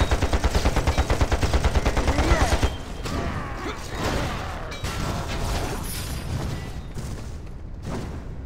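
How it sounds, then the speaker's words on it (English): Rapid automatic gunfire from the Panzar online fantasy battle game, a loud stuttering machine-gun burst for the first few seconds followed by scattered shots, clanks and explosions in a busy fight. "Me2 is shooting into the entrance"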